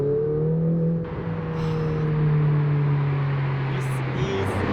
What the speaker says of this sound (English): just listen to the sound of these turbos